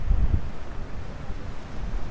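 Rough monsoon sea waves at a Goa hilltop beach roar as a loud, continuous low rumble, heavily buffeted by wind noise on the microphone, with surges near the start and end.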